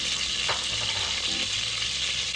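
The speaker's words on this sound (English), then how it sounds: "We're going to add our salted fish. Allow it to fry in the palm oil" Salted fish frying in hot palm oil, a steady close crackling sizzle with a brief scrape of stirring partway through, no voices.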